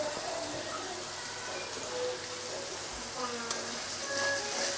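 Galangal, lemongrass, bay leaves and torn lime leaves sautéing for beef tongseng, giving a steady close hiss of frying oil with faint pops and crackles and no talk.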